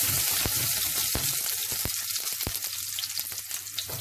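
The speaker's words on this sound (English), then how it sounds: "Then I'm going to add some ginger into this. I'm going to nicely fry this." Ginger fries in hot oil with mustard seeds for upma, a loud, continuous sizzle close by, broken by a few sharp pops and clicks.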